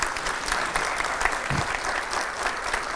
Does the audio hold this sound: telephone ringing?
no